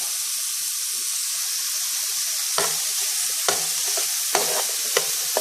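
Peppers and other ingredients frying in a pan, a steady broadband sizzle with occasional louder scrapes of a spoon stirring so nothing sticks to the bottom, close by and without talk.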